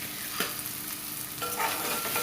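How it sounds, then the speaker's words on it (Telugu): Spices for a mutton curry masala frying gently in a pan, a soft, steady sizzle with occasional stirring scrapes, faint and close, with no voices. "ఇలా సాఫ్ట్గా ఫ్రై అవుతే సరిపోతుందండి"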